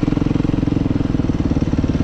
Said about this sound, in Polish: Motocykl zwolnił.